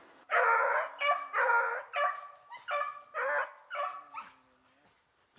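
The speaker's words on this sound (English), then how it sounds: "Good dogs over here." Rabbit-hunting hounds bay and bark in a rapid series of loud, ringing yelps while chasing through snow, one voice carrying close and clear.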